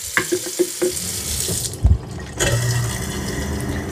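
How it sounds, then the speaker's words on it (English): Water runs from a tap while a wet-dry floor vacuum part is rinsed out, with a few knocks and handling sounds up front, then a steady splashing stream filling the second half. "So I would rinse this out and make sure it's nice and dry."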